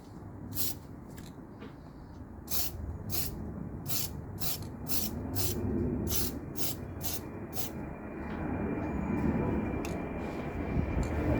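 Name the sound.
spray painting a curb-rashed wheel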